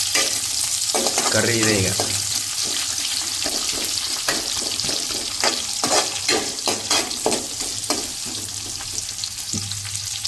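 Onions frying in a pan hiss and sizzle steadily while a spoon stirs them in repeated scraping strokes, with a short bit of speech over the cooking.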